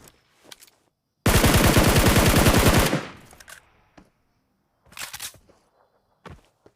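Automatic gunfire spray in an online shooter video game, a loud sustained burst of rapid rhythmic shots lasting about a second and a half, followed by scattered softer game sounds and brief bursts.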